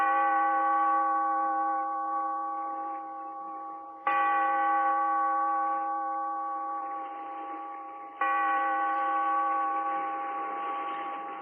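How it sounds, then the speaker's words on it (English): A bell from an old radio drama tolls three times, about four seconds apart. Each strike rings out clear and resonant with a rich overtone hum, then slowly fades before the next stroke. Nothing else is heard. "Bellkeeper, toll the bell, so that all may know we are gathered again in the weird circle."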